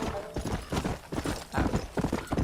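A horse's hooves clop in Red Dead Redemption, a dense run of heavy thuds at a brisk pace, loud and close with a rough broadband texture.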